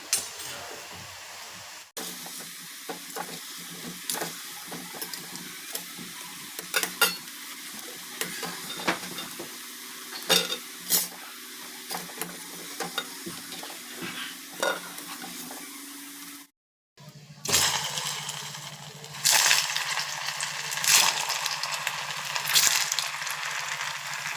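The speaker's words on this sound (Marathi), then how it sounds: "हे बघा एकदम मस्त असा मेंदूवडा तळला जातोय." Medu vada deep frying in hot oil, a continuous crackling sizzle with scattered pops, briefly cutting out and returning louder and brighter near the end.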